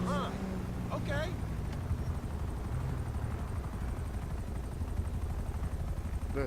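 A helicopter's steady thrumming rotor drone fills the clip, with a voice briefly heard over it at the start.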